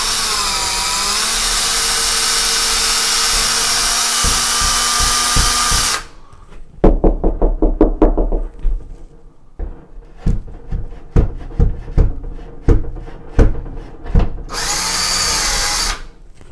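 A power drill bores into a wall while hanging a picture frame, starting with a long loud continuous whine, then stopping, then giving a series of short stuttering bursts and pulses before another steady run at the end.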